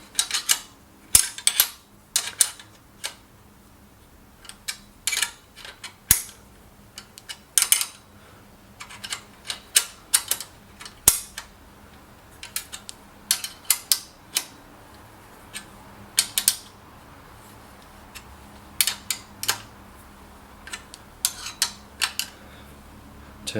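A 10 mm wrench tightening bolts while a VEVOR 3-in-1 hand trolley cart is assembled: sharp metallic clicks and taps come in irregular clusters, close and fairly loud, with quiet pauses between them and no talking.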